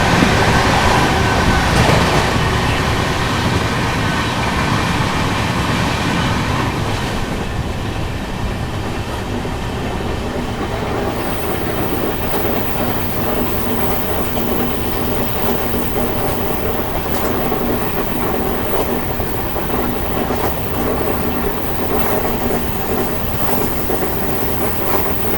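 Yesvantpur-Gorakhpur Express running on the rails, heard from aboard as a loud continuous roar of wheels and carriages with rhythmic clickety-clack over track joints and faint wheel squeal, sustained throughout.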